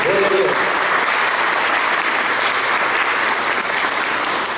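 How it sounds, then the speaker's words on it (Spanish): Strong, continuous applause from a church congregation during a sermon, loud and sustained, with a voice briefly audible at the very start. "Dale un aplauso fuerte"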